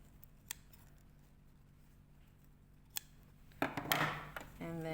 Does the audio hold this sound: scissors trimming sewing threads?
yes